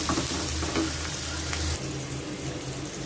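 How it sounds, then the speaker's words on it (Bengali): Onions frying with salt in a pan, a steady close sizzle that drops slightly in level partway through, with no talk. "এখন একটু লবণ দিয়ে দেব। পেঁয়াজটা একটু ভেজে নিই"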